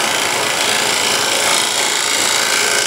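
Steel card scraper, freshly burnished burr, scraping a wooden surface: continuous loud, dense rasping hiss with no pauses, close up and alone.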